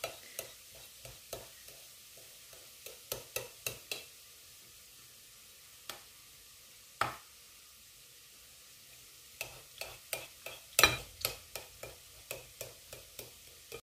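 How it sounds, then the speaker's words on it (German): Tomatoes being chopped with a knife on a board for a quick pizza soup, a run of sharp, fairly close taps in quick bursts with short pauses, each stroke distinct and crisp. "schneide die Tomaten ein bisschen klein"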